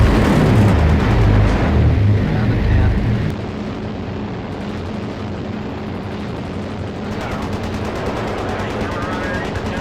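Machine gun fire from a bomber's gun position aimed at attacking fighters, loud rapid bursts over a constant aircraft engine drone, with crew voices calling over the noise.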